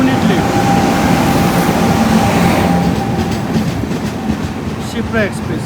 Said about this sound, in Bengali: এখন 9:32, আমাদের ট্রেন ঢুকছে।